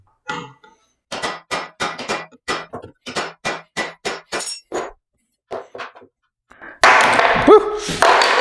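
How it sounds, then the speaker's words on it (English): Repeated sharp metallic hammer blows knocking a part off an old 1x30 strip sander, about a dozen quick strikes in a steady rhythm, then a pause, a couple more taps and a louder clattering burst with a brief whine. "Time for the hammer."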